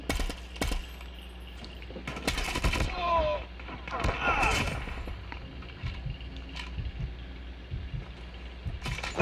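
Call of Duty Mobile gunfire in a bomb-plant match, repeated sharp shots and bursts scattered across the clip, fairly loud, with voices from players talking over the game noise.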